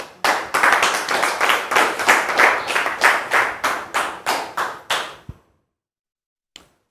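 A studio audience on a French-language talk show claps to welcome a guest, steady rhythmic applause lasting about five seconds before stopping abruptly, with one faint tap afterward.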